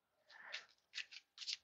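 Tarot cards being shuffled by hand in three short bursts of papery riffling and sliding, close and fairly quiet, with brief pauses between.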